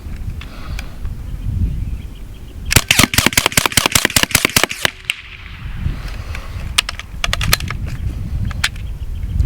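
A semi-automatic AEA .25 caliber bullpup air rifle fires a rapid string of about a dozen sharp, close cracks in quick succession, followed by a few scattered mechanical clicks and handling noises.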